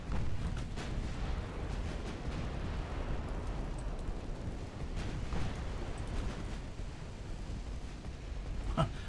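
Warship guns firing in the naval strategy game Ultimate Admiral Dreadnoughts, including rapid machine guns and small 2-inch guns, heard as a dense, continuous barrage of booms and bursts with a few sharper shots standing out, loud throughout.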